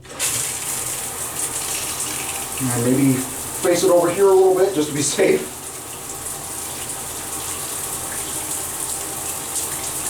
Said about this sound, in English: let's go ahead and turn on the shower head.